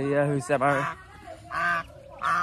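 Goose goslings honking close by in short harmonic bursts, three or four calls with brief gaps between them, loud and clear.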